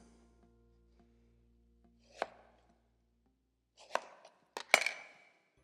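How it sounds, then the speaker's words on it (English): A wavy crinkle cutter slices through fruit into wedges: one crisp, crunchy cut, a short pause, then a quick cluster of three firm cuts close up in a quiet room. "we're going to place this wavy cutter right in through the center"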